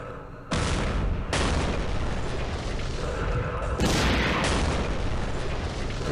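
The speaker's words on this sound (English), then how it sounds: "Ah, the recoilless rifle." A recoilless rifle fires in a Middle East wargame, Campaign Series, with loud, heavy booms that cut in sharply and roll into a sustained rumbling blast, then a second boom, all close and dominant.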